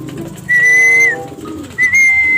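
Pigeons at a backyard loft call in a short burst: two sustained, high, whistle-like notes sit over softer low cooing, close by and with no speech.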